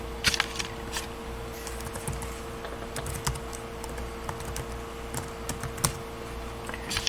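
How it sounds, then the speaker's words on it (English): A short command typed on a computer keyboard, with quick irregular keystrokes clicking close up over a steady background hum. "Just going to go to CMD, and type in ipconfig again."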